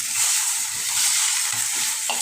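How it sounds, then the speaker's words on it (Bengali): Fish head frying with spices in oil, a dense loud sizzle with rhythmic stirring scrapes of the spatula repeating through the short stretch, up close and without speech. "মাছের মাথা ভাজা হয়ে গেছে"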